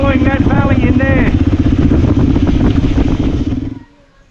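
A motorcycle ridden on a mountain road in western Nepal gives a loud, steady engine drone at close range, with wind buffeting the microphone, before the sound cuts away abruptly near the end.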